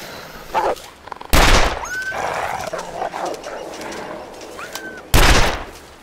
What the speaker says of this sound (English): First shot scared him.